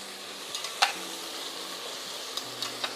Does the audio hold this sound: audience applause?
no